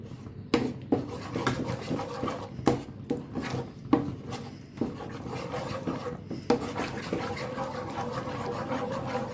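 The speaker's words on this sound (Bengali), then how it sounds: "শিরার মধ্যে ভালো করে মিশিয়ে নিতে হবে" Milk powder is stirred into semolina barfi sugar syrup in a pan, making repeated scraping and rubbing strokes with occasional sharper knocks.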